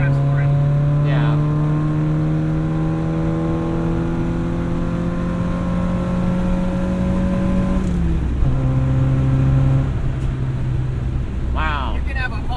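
A steady 1977 MG Midget engine hum at cruising speed around 60 mph, holding one pitch then dropping as it shifts, with road and wind noise and occasional speech.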